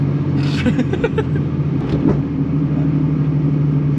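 A turbocharged BMW E36 325i revs in a short burst of rising engine roar over a steady low idle rumble, heard close and loud.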